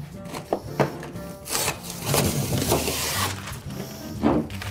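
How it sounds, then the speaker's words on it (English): A sheet of drywall punched through after an X is cut in its back, giving a rough crunching, scraping burst that swells for a second or so between sharper knocks, close and fairly loud. "make a big X on the back of your drywall. All right. And punch it through."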